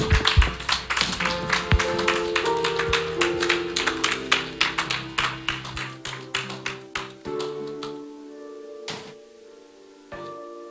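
A church congregation claps during a night service, producing a steady, rhythmic run of sharp, close claps over sustained keyboard or organ chords, with the clapping thinning out toward the end.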